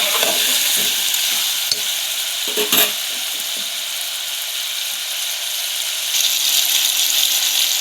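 Brinjal pieces being stirred and fried in oil for a Karnataka-style palya, with a steady close sizzle and intermittent scraping stirs of a spatula against the pan.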